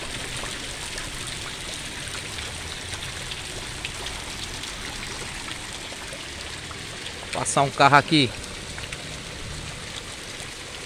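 Steady rain and rushing floodwater from flooded streets hiss throughout, with a person briefly speaking near the end.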